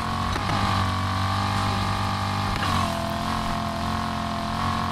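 An Audi S5 in the racing game Need for Speed Heat drones at steady cruising speed, with two brief shifts or revs breaking the constant engine hum, and nobody talking.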